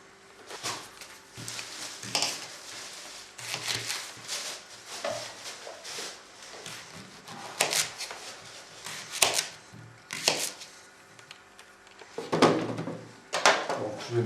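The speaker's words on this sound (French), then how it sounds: "je vais faire 2 ou 3 morceaux de poireau avec le morceau qui reste" A knife chops a leek into pieces on a board for a lamprey dish, giving irregular close knocks and short slicing cuts with pauses between them, and no talking.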